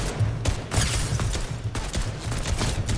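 Rapid gunfire in Fortnite, a steady rattle of close, loud shots repeating in quick succession throughout.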